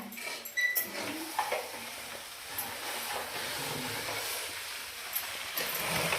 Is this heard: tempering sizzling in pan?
yes